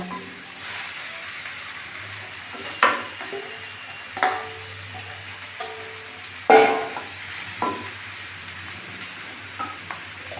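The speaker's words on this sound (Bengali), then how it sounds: "ধুয়ে কুচি করে রাখা লাউটা ডালটা সামান্য ভেজে নিয়েছি তেলে দিয়ে দিয়ে দিচ্ছি লাউ" Chopped bottle gourd frying in oil, a soft steady sizzle under scattered louder scrapes and knocks of a spoon against the pan, several distinct strokes spaced a second or two apart, without speech.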